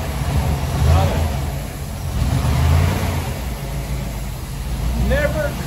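A 1957 Ford Thunderbird classic car engine running and revving in a few swells, with a steady low rumble between them, while people talk nearby.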